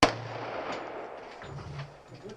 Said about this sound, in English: Fire your Glock.